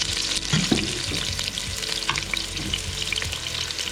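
Garlic and onion fry in a pan outdoors, giving a steady, close sizzle with occasional stirring scrapes and clicks.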